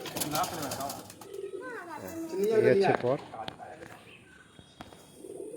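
A good-quality pigeon coos in low, rolling phrases, with children's voices and murmured speech around it and footsteps nearby.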